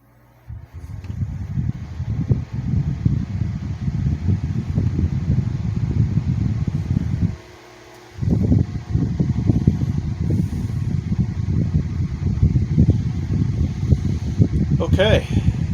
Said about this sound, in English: so the fan is running